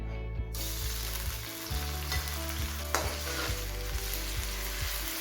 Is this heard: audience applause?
no